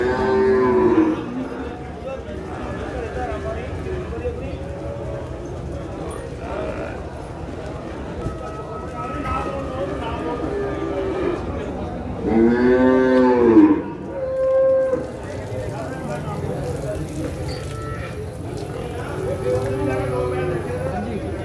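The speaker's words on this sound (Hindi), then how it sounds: "देखिए, जगराम मंडी की आगे वाली भैंस" Buffaloes moo at the Jagraon cattle market, a couple of loud drawn-out bellows rising over a busy background of people talking and market bustle.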